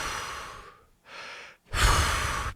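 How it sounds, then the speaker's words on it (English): Breaths of a breath-holding technique at high altitude above 15,000 feet: two long forceful exhalations with a shorter inhale between them, close and loud, breathy and unvoiced. "and I start doing the breathing technique"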